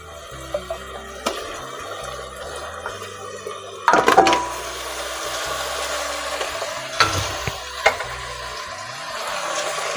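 Country chicken pieces go into a hot pan with ginger-garlic paste and are stirred, giving a sizzle under clattering spatula strokes, with a louder burst as the meat is added midway.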